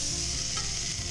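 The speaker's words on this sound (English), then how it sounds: "I do continue to add a little bit of butter on the side to make sure that it's toasting" French toast frying in butter in a flat pan, a steady dense sizzle close up, continuous and fairly loud with no voices.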